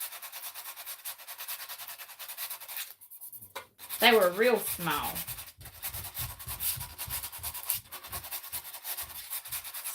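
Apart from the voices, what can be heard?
sanding over nail holes on a crate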